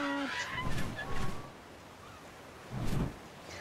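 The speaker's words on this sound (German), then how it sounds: "was ist das denn hier für eine Dodo-Armada?" Dodos from the video game ARK: Survival Evolved squawk and honk in goose-like bursts, a short cluster early and another near the end, heard over a low rumbling game ambience.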